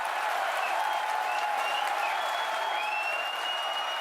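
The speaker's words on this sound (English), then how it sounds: "You can hear our crowd going wild." A crowd cheers and whoops continuously after a SpaceX Falcon Heavy booster landing, a loud steady roar with rising shouts and whistles cutting through.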